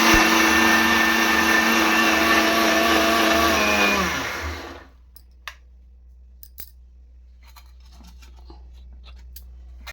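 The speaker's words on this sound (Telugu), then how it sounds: "చూడండి మిక్సీకి అయితే పట్టేసుకున్నాను" Kitchen mixer grinder pulverising soaked wheat rava, a loud whining motor roar that winds down and stops near the midpoint, followed by near silence with a few faint clicks.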